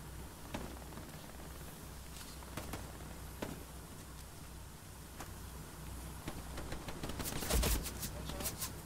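Bursts of machine gun fire crack out from somewhere in a Hell Let Loose battle, scattered sharp shots at first and then a denser rattling volley near the end, over a steady background wash of noise.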